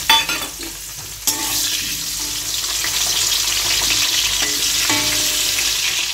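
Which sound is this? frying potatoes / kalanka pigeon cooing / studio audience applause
frying potatoes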